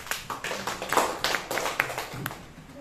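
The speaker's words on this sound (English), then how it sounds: "Please give your happy clap" A classroom of students clapping together during a lesson, a steady burst of quick, moderately loud claps lasting a few seconds with no talk.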